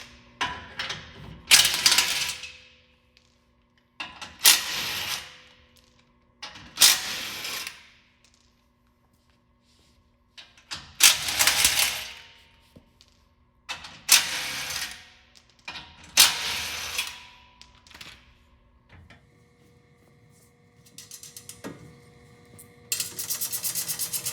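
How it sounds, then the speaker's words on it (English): Electric impact wrench with a 17mm socket spinning out front bumper bolts on a 2022 Toyota Tundra, fired in about seven loud, close bursts separated by short pauses, ending in a steadier mechanical whir. "the others I'm going to remove with the electric impact and 17mm socket"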